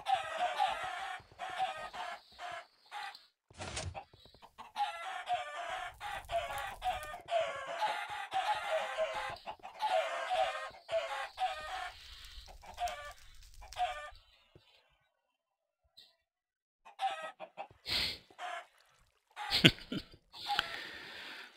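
Chickens clucking and squawking in a video game, repeated bursty cackles and calls in uneven clusters, loud and close, with brief gaps and a short quiet stretch before more clucks.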